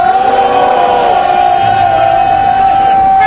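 A rally crowd at a candlelight protest over alleged election fraud in Suncheon cheers and applauds for a speaker, a dense, continuous roar with a steady tone running through it, loud and sustained with no gaps.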